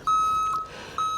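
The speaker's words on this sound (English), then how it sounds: "we're gonna have a guy beeping his truck, dropping off accessories." Three short electronic beeps sound from a delivery truck dropping off accessories at a Corvette dealership, evenly spaced and fairly near, with no voices.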